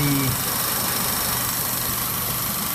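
A 1994 Saturn engine running at a high idle with an idle speed control problem, a steady close mechanical drone with faint ticking, continuous and unchanging after a brief tone at the start.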